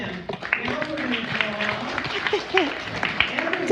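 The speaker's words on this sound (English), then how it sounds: "round of applause for them." An audience at a general meeting breaks into a round of applause, a steady patter of clapping running under people talking close by.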